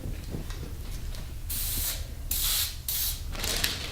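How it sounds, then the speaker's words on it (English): Several short hissing bursts of cooking spray onto baking paper, close by, separated by brief pauses with faint rustling between them. "I spray it a little bit just to hold it down while I'm putting the cookies on there"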